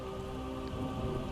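Steady autumn rain pours onto bare trees in the video game Othercide, a dense, even hiss of downpour that continues without pause.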